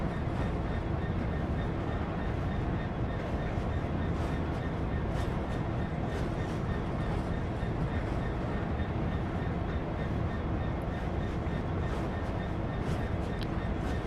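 A train runs on the East Coastway route in the video game Train Sim World 2, a steady, loud rumble of wheels and rails that holds unbroken throughout.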